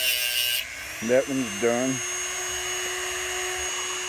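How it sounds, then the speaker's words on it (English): A power drill motor whirs while boring into a homemade .50 caliber bullet, with two short pitch-bending bursts as the bit bites before a steady whine and a person speaking briefly over it. "You hear that sound like the motor's going down, winding down, then that's how I know it's deep enough."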